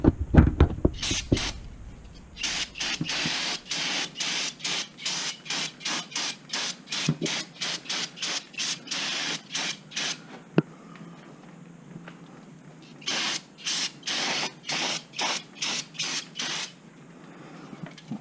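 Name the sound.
spray paint can spraying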